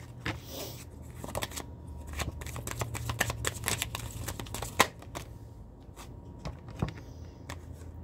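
Message cards riffled and shuffled in hand, a steady run of crisp papery flicks and snaps with one sharper slap midway, close and fairly quiet, with no talk.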